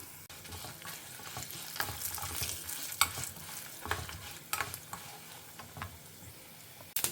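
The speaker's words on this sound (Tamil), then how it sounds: "இதை கொஞ்சம் நல்லா செவக்க வறுத்துக்கலாம்" Urad dal and red chillies roasting in a pan, with a steady soft sizzle, intermittent scraping stirs and sharp ticks of popping seeds, fairly close and quiet.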